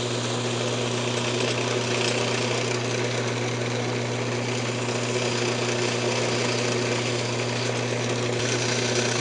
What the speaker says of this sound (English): Grits again, I turn the lathe speed down a little bit.